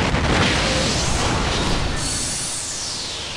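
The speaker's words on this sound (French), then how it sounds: "Il y a eu une explosion chez eux là, qu'est-ce qui se passe?" A loud explosion boom in Japan opens with a heavy broadband blast that rolls into a long, slowly fading rumble and crackle, no voices.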